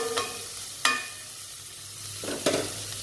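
Tofu, broccoli and mushroom sauteing in a pan, a soft steady sizzle broken by a few sharp scrapes and clacks of stirring, close up and without talk.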